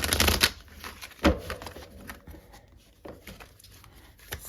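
Tarot cards being shuffled by hand, close and crisp, with a dense riffle at the start, another sharp burst a moment later and lighter flicks and taps after, with no talking.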